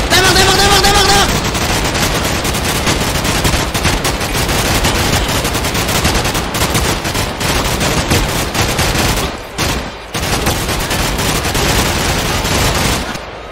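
Video game gunfire in a team shooter, dense rapid bursts of automatic fire crackling almost nonstop and loud, with players talking over it.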